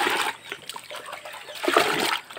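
Water poured from a bucket splashing onto eggplant plants beside a house garden, two bursts of splattering and trickling, close and fairly loud, with a quieter dribble between them.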